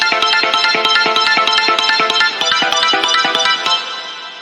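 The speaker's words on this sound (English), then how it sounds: "If I turn this one off, it sounds like this." Synth chords with the auto pan switched off sound steady and linear, driven by a fast, even arpeggiated pulse that stays loud and close before easing slightly at the end. No voices.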